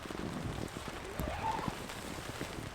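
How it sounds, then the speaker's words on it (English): Light rain begins falling at a riverside campsite in Yosemite, a faint, diffuse patter spread evenly over the quiet background, with a few soft bird calls mixed in. "So it's starting to rain"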